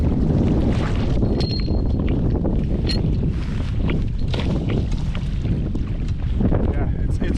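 Strong wind blows across a rocky lake campsite at Dollars Lake, roaring continuously against the microphone with steady low buffeting throughout.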